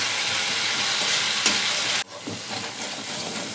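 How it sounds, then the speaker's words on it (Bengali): Spices sizzling and being stirred in a hot pan for a Bengali mustard fish curry, a dense continuous fry that drops abruptly partway through and then settles into a softer, lower sizzle. "দেখুন মশলা আমার ভালো করে কষা হয়ে গেছে"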